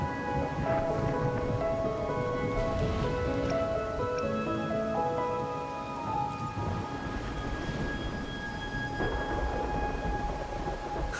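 Rain falls steadily with rumbling thunder beneath in the video game Wuthering Waves, accompanied by soft sustained musical tones that shift and fade over the course.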